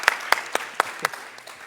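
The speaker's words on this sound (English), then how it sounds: "give to all our panelists a big applause." A handful of slow, separate claps at a policy dialogue for the panelists, sparse and fairly close, fading out after about a second with faint room noise.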